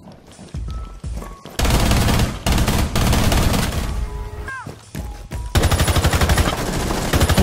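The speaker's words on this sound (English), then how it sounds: "I shot the dude up?" Loud, close bursts of automatic gunfire in the video game Rainbow Six Siege, rapid sprays of shots separated by short pauses, with brief electronic tones between volleys.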